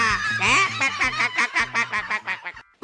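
A cartoon duck honks in a rapid string of loud, nasal, squawking calls, one after another, close and with no other voices.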